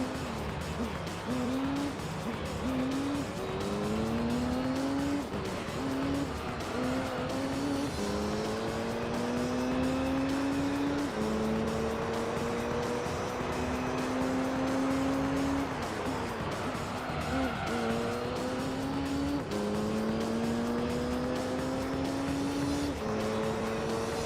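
Race car engines in the Gran Turismo 3 video game rev continuously, pitch climbing through each gear and dropping at every shift, with tire noise underneath over a long steady stretch of lap.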